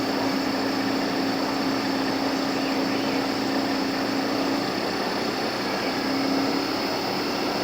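Inverter air conditioner running after being switched back on, a steady close hum with a constant tonal drone and high whine, continuous and even, with no talk over it.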